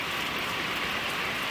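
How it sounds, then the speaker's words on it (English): Heavy rain pours down in torrents near a stable and garage, a dense, steady, loud hiss of water with no pauses and no voices. "We definitely needed rain, but we did not need this much this fast."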